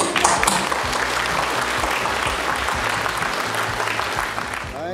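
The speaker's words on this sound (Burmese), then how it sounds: "ကျောင်းသားကျောင်းသူတွေရဲ့အောင်မြင်မှုနဲ့သက်ဆိုင်သူအားလုံးရဲ့ကြိုးပမ်းမှုတွေကိုဂုဏ်ပြုတဲ့အနေနဲ့အားလုံးလက်ခုပ်တီးမိတ်" A crowd claps steadily and densely, with a loud, unbroken wash of applause lasting throughout.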